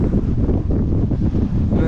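Strong headwind at Kodumudiyaru dam buffets the microphone in a loud, continuous low roar that swells and dips steadily throughout, with no other sounds standing out.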